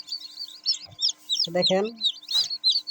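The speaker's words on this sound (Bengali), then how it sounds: "মুরগির বাচ্চাগুলো কত কিউট হইতেছে।" Newly hatched chicken chicks from an incubator cheep in rapid, high, repeated peeps close by, while a person speaks briefly over them.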